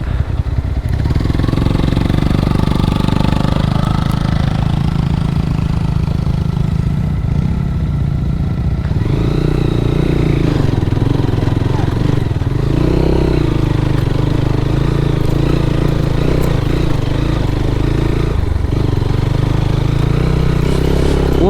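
A motorcycle on a steep hill trail at Sukhia Valley, Lama, Alikadam runs loud and close with a steady, labouring engine drone that shifts in pitch as it rides, with no talk.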